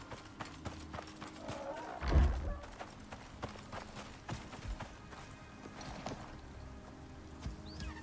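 Horse hooves clip-clop at a steady walking pace in the survival video game Icarus, fairly faint and close, with a brief louder thump midway and soft game ambience underneath.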